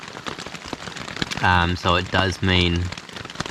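Light rain patters steadily on the Lake Waikaremoana track, a soft crackling hiss that continues under a voice talking nearby.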